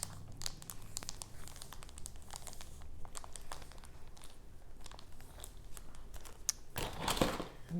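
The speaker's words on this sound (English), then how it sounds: "I'm going to use a plastic bag. You guys know I always do this to press the glue down" A plastic bag crinkles and crunches in quick, uneven bursts as it is pressed down over glued collage paper, close to the microphone, with a louder rustling burst near the end and no talking.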